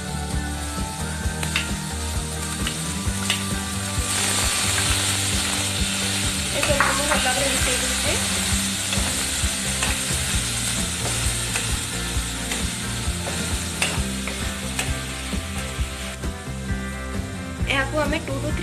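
Chilli, carrot, peas and paneer fry in a pan for an Odia home dish, giving a steady sizzle with clicking, scraping stirs throughout; a voice talks faintly in the background.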